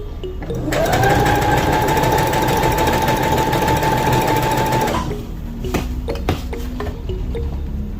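Loud, close sewing machine stitching T-shirt dress fabric in one sustained run of about four seconds with a rising motor whine, then stopping and leaving a few clicks and handling knocks.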